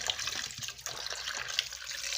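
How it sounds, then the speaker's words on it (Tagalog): Water runs from a kitchen tap in an uneven, splashing trickle, quiet and close, with no talking over it. "Ayan ang ating gripo. Tumutulo-tulo."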